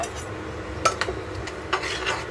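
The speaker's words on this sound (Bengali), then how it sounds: "এই এবার আমি নাড়িয়ে দিচ্ছি, ভালো করে ঘাঁটিয়ে দিতে হবে।" Fried spice mix being stirred in a cooking pan, giving a few scattered metallic scrapes and clinks of a utensil over a soft background hiss, close and fairly quiet, with no voices.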